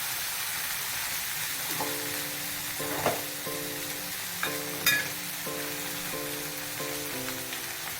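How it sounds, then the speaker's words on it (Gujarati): Finely chopped tender cabbage sizzling in a pan of hot oil; a soft, steady hiss with a few sharper clinks of a spoon stirring, while a faint musical tone plays in the background. "હવે એમાં કોબી મિક્સ કરી દીધી છે મમ્મીએ."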